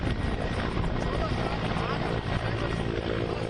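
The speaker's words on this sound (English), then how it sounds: "Chinook transport helicopters and Mi-17s." Chinook transport helicopters and Mi-17 military helicopters fly overhead, a dense continuous rotor roar and engine wash that stays loud and steady throughout.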